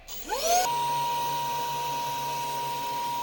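Laser engraver making a test run on a piece of wood while a vacuum hose runs alongside, giving a steady whining drone with a sustained tone after a rising spin-up, with no talking.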